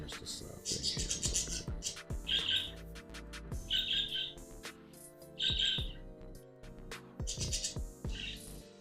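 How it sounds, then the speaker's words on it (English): Loud birds outdoors squawking and chirping in repeated sharp bursts close by, with bits of a voice and low rumbling noise mixed underneath. "them birds all loud and shit. They be waking up fucking squawking and shit all in my damn ear."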